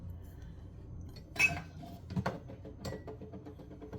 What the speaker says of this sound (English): I'm going to move this a bit to open this cabinet up